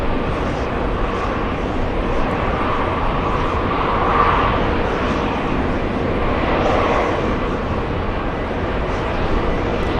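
An airplane at JFK Airport, heard from the TWA Hotel, produces a loud, steady jet roar that holds for the whole stretch, with a faint swell in the middle.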